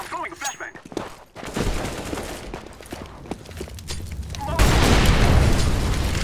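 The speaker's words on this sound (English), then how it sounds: "I'm throwing a flashbang!" Flashbang grenade and gunfire in CS:GO: bursts of rapid shots and thuds, then a loud sustained blast roar to the end, with voices talking over the action.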